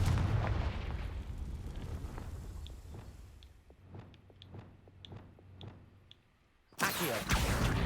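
Blasting spell explosions in the video game Hogwarts Legacy: a heavy burst at the start, then a string of sharp, spaced pops and cracks, with a loud blast near the end.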